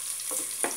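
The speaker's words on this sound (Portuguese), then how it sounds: "Vou colocar uma cebola e nós vamos deixar ela dar uma" Onion frying in a pan for a chicken and creamed-corn fricassee, a soft steady sizzle with a couple of brief scraping stirs near the end, close and fairly quiet.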